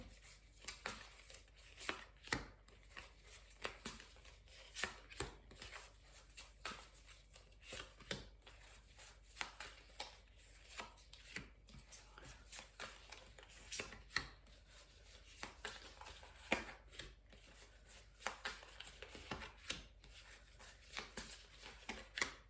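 A deck of tarot cards shuffled for a nine-card spread, soft papery riffles and slides repeating in a steady, brisk rhythm, close but quiet, with no voice over it.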